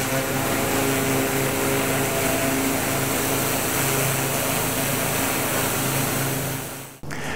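A power washer sprays wash product across a vehicle roof, giving a steady, loud hiss of spray and motor drone that holds evenly for several seconds before cutting off abruptly near the end.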